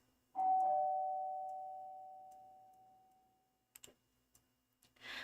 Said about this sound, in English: our negotiator fixes her hair and rings the doorbell. Ding dong.